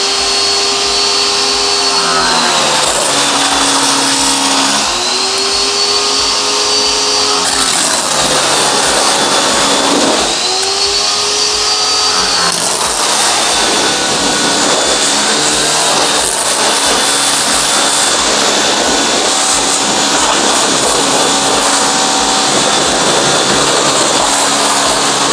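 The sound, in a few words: garden hose spraying water on e-bike wheels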